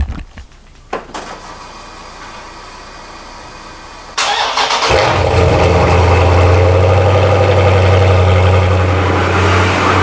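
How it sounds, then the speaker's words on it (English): A V6 Honda Accord engine cranks and fires up loudly from cold after some quiet shuffling, then settles into a steady, rumbling idle inside a garage. "And we'll do a garage cold start."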